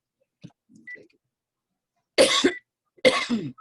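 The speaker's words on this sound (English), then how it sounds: "I just swallowed some water. That's why I'm coughing." Two sharp, loud coughs about a second apart, close to the listener, preceded by a few faint small noises in an otherwise quiet room.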